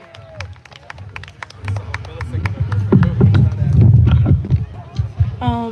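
Scattered claps from a youth poetry open-mic crowd pick up into a brief round of applause and cheering, close and lively, while voices call out over it.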